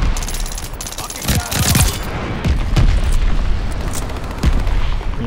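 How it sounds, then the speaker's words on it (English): In the Warzone video game, gunfire and booming blasts from a glide bomb attack crackle and thud in loud, dense bursts over several seconds, mixed with rapid weapon fire. "Enemy's got a glide bomb incoming!"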